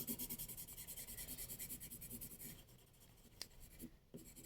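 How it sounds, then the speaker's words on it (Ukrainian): A graphite pencil colors in a small oval on a drawing with quick, rhythmic back-and-forth scribbling strokes, close and steady, easing off into a few faint scrapes and taps. "беремо простий олівець і обережно не виходячи за лінію, розфарбовуємо маленький овал усередині"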